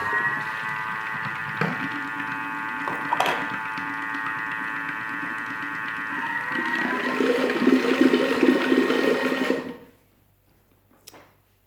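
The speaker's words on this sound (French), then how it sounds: "Je vais mélanger un petit peu, vitesse 4." A kitchen food processor runs at speed 4, mixing pastry cream for red fruit tartlets: a steady, close motor hum that changes tone partway through and grows rougher before stopping abruptly, leaving near silence.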